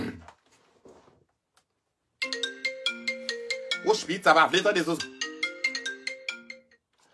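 A mobile phone ringtone plays a bright, repeating electronic melody for about five seconds, close and clear, after a few brief spoken words at the start.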